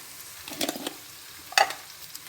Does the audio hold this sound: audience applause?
no